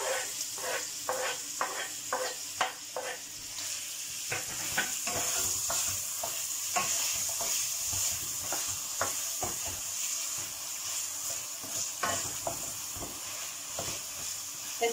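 Meat and onions sautéing together in a pan for a regional Siirt dish called gulolok, a constant close sizzle with repeated stirring scrapes and clacks throughout.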